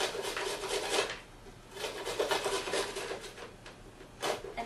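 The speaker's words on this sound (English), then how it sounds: "With a large mixing bowl, we're going to grate our carrots directly into it." Carrots are grated by hand into a large mixing bowl, giving repeated raspy scraping strokes in uneven bursts, close and moderately quiet.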